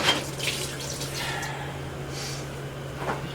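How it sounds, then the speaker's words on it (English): Running water from a kitchen tap splashes over hands being washed mid-way through preparing a backwoods beef Wellington, a steady close wash with brief bursts of splashing. "let me wash my hands"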